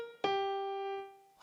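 A single piano note sounding near and clear, struck once and left to ring and fade, imitating a cuckoo call.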